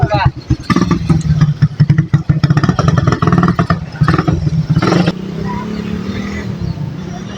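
A motorcycle engine runs close by at a church blessing, with a rapid, pulsing putter, then settles into a steadier rumble.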